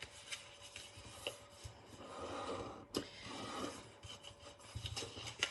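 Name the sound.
folding and burnishing paper lines on a desk mat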